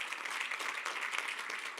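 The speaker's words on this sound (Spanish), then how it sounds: "Vamos, dale un aplauso al Señor" A church congregation claps for the Lord during a sermon, a steady, dense patter of many hands sustained throughout at moderate level, with no talk over it.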